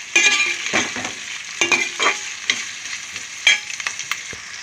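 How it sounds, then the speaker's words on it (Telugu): Vegetables sizzle and fry in a pan with salt added, for a mutton and chana dal curry, with steady hissing under repeated scraping stirs of a spoon, close and fairly loud, no talking. "కూరగాయలు వేగనిద్దామండి కొద్దిగా సాల్ట్ వేస్తుంది సాల్ట్ వేస్తున్నాను వేగి త్వరగా వేగుతాయి"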